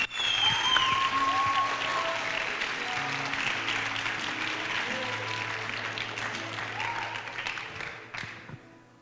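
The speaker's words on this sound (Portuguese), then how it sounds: "Se você quiser aplaudir ao Senhor, aplauda ao Senhor" A church congregation applauding the Lord during a sermon, sustained hall-wide clapping at moderate distance with shouts and murmured voices underneath, fading toward the end.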